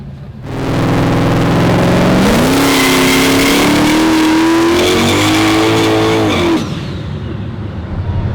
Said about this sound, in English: a 1972 Chevrolet C10 twin turbos mounted in the bed